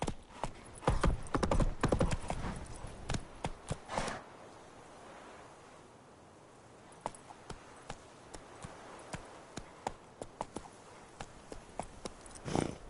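Horse hooves clip-clop steadily in The Witcher 3 video game, a quick rhythmic run of hoofbeats that pauses briefly midway, then resumes with lighter, spaced steps, close and clear with no talking.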